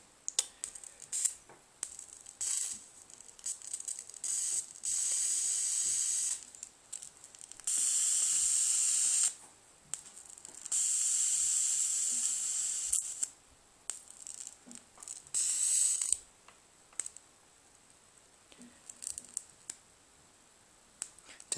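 Electric arcs from a flyback transformer driven by a 555 timer circuit hiss and crackle in loud bursts of several seconds each, broken by quieter gaps and short ticking snaps, close by with no talking.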